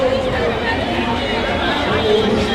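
Dense crowd of devotees at a Ram temple festival: steady, close babble of many overlapping voices with no distinct words standing out, continuous throughout.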